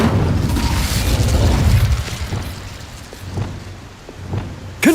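An Incendio fire spell cast in Hogwarts Legacy, a loud rushing, crackling burst of flame that fills the opening seconds, then dies down to a low rumble with a few faint magical pings and a sharp flare at the very end.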